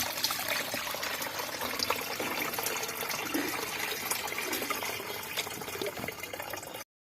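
Water pours steadily into fish-waste liquid fertilizer for garden plants, a continuous close splashing trickle lasting several seconds before stopping abruptly, with no talk over it.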